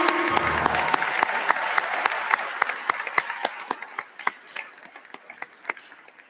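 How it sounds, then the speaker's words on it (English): Graduates applaud at a university commencement ceremony, a broad wash of clapping with sharp individual claps standing out, fading gradually toward the end. "give yourselves a round of applause for that"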